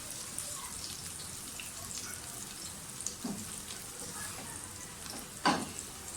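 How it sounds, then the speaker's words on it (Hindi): Small pieces of chopped garlic fry steadily in a pan, making a soft, continuous sizzle at low volume with a few faint clinks and stirring touches. "लहसुन की जो हमने जो भी छोटे छोटे काटे हैं उनको डाल दें।"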